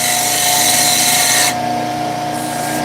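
A wood lathe spins as a tool makes a shear scrape cut on a wooden finger bowl, a close, loud, continuous scraping hum that eases off abruptly halfway when the tool lifts, leaving the motor running.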